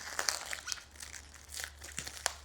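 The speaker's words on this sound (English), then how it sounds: "So I'm just going to unwrap this as best I can without damaging anything." Close, soft crinkling and rustling of wrapping as a packaged solar panel is unwrapped, with irregular crisp crackles over a few seconds and no voices.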